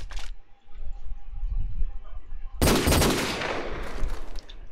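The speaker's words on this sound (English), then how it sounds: "deagle fire coming out from Toxic" Desert Eagle pistol fire in a competitive shooter match at a LAN tournament: a brief crack at the start, then a loud, dense burst of shots midway that trails into ongoing gunfire and game noise.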